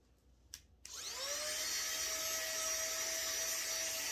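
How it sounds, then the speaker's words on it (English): A small handheld vacuum cleaner switches on after a couple of faint knocks and runs with a steady, close whine while sucking up crumbs, holding level to the end. "I actually want to just go get some crumbs so that we can go and vacuum it up."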